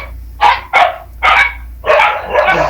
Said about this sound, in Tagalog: Sabi niya, Ma'am, ang ingay ng mga aso niyo.